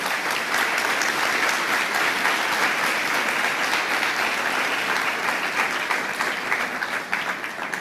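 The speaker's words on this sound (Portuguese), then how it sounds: "Eu queria pedir uma salva de palmas para o Armínio." Steady, dense applause from a seated audience at a philanthropy forum, honoring economist Armínio Fraga, sustained loudly throughout and tapering slightly at the end.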